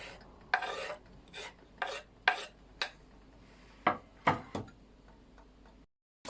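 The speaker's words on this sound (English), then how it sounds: "I'm adding my onions." Chopped onions drop into a pan for a chicken ramen noodle stir fry, giving about a dozen short, sharp rasping sizzles and scrapes in an irregular rhythm, close by and fairly quiet, with no talk.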